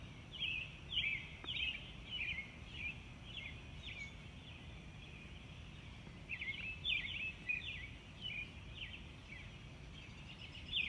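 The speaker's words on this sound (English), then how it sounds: "Listen to the sounds of the birds in the morning" Morning birdsong outdoors: a few birds repeat short, bright chirping phrases in bursts, fairly faint against a steady low background hum, with no talking.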